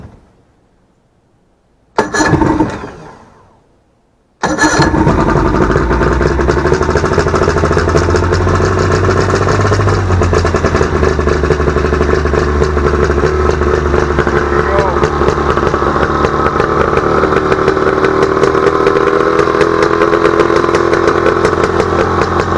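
An outboard boat engine cranks briefly, catches and then runs steadily and loudly with a rough, buzzing idle as a little throttle is applied, continuous for the rest of the clip.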